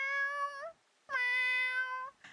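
A person's voice mimics a cat's loud meow, two long drawn-out cries in a row, close and clear, with the start of a third at the end.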